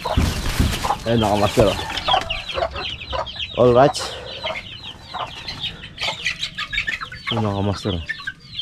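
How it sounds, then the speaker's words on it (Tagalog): Many hens cluck repeatedly near and loud in a backyard flock, with occasional rooster-like calls, while someone talks intermittently over the birds. "Yung mga inahin ko, maraming inahin mga master."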